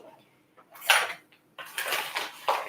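A teaspoon scooping herbal liver tonic powder, with a few short scraping and clinking strokes against a container, close, quiet and intermittent.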